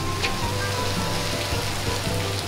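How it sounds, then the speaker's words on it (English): Water sprays and splashes steadily at a children's splash pad at an RV resort in Galveston, Texas, a continuous hissing patter heard up close with no voices. "This is a splash pad for the kids."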